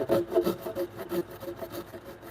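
Hand saw cutting through wood along a marked line in a workshop, a steady rhythm of quick back-and-forth strokes, close and fairly quiet, with no talking.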